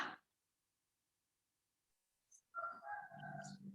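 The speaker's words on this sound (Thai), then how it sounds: "ไก่บ้านใครวะเนี่ย" A rooster crows near a Thai home, a short call after a long silence followed by a fuller, loud crow that runs to the end.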